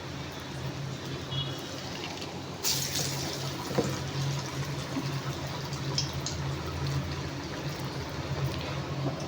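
Green gram fritters (pesaru vada) frying in hot oil on medium heat, a steady dense sizzle and crackle running the whole way, with a brief sharper burst of bubbling partway through.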